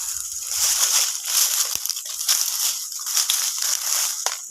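Water pours from a freshly cut jungle vine, producing a sloshing, crackling trickle with irregular splashes that continues for several seconds up close. No one speaks.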